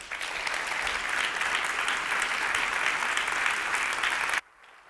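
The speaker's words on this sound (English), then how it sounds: "a warm round of applause for Analjit Singh" A large audience applauds steadily for Analjit Singh at the GSWS 2013 event, a dense continuous wash of clapping that stops abruptly near the end.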